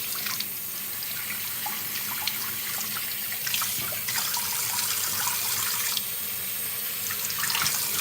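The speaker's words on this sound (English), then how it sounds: "So I'm just sticking my beard up underneath the water, getting a good rinse." A running tap pours steadily into a sink while a beard is rinsed under the stream, a close, continuous hiss and splash with small shifts as the water is disrupted.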